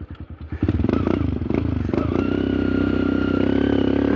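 A motorcycle carrying several riders chugs with low thumping pulses, then its engine swells into a loud, steady drone close by, with no talk.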